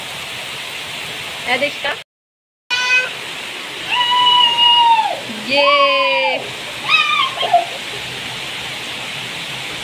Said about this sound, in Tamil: நல்ல செம்ம மழையாக வருது. ஏதோ நல்ல மழை வருது.